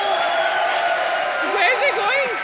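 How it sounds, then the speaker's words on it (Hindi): Studio audience at a televised comedy show applauding and cheering loudly in a continuous wash of clapping, with a host's voice speaking over it. "जोरदार तालियां सोहेल भाई के लिए।"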